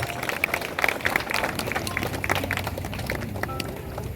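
Audience clapping at a church celebration at St. Agnes honoring confirmation class students, a short stretch of steady mid-level applause with faint crowd murmur.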